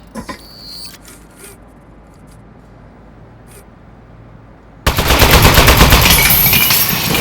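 A turret in the video game Aperture Desk Job suddenly opens fire after several seconds of near-quiet with a few faint clicks, releasing a loud, dense, continuous rattle of rapid gunshots that runs to the end.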